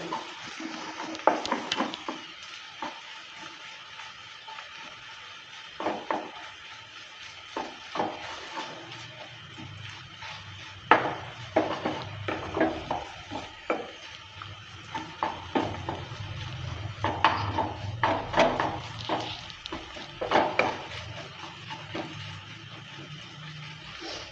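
Masoor dal is stirred and fried in a pan for a okra fry, giving intermittent scraping and rustling bursts of the spatula against the pan over a low background hum, with quiet gaps between strokes.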